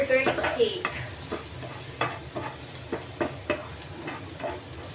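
Garlic for burger steak sizzles and fries in a pan, a steady crackle broken by repeated clinks of stirring, close and moderately loud with no talking.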